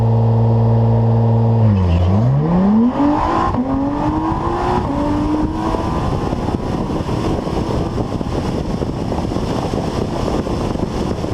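An Acura NSX with an upgraded exhaust and downpipes roars close and loud, its engine note dipping after a gear change and then climbing steadily as the car accelerates hard, with a dense rumble underneath.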